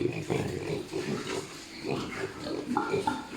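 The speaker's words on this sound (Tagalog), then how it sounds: "13 piglets ang nandito naman po sa kulungan na ito" Piglets in a pen on a pig farm grunt and squeal close by, a steady jumble of overlapping oinks and short high-pitched squeals with no pause.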